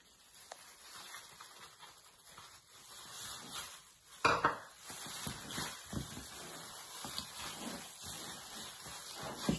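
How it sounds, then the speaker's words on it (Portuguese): Sausage and chopped green herbs being mixed in a bowl, with steady clinks and scraping of a utensil against the dish and a sharper knock midway, close and at moderate volume without talk. "A gente vai continuar misturando."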